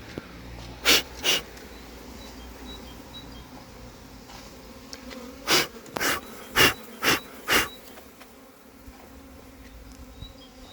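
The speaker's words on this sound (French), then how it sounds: "Je laisse toutes les abeilles s'envoler." A swarm of honeybees flies around a cardboard box during a swarm capture, a faint hum underneath with several sharp, loud bursts close by, in two groups, and no talking.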